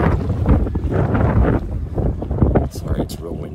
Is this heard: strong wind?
yes